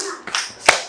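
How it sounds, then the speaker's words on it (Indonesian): Three sharp hand claps in a classroom, a teacher leading pupils through a one-two-three clapping routine; the claps come unevenly spaced, with the last one loudest, and no voices in between. "Tepuk satu, dua, tiga."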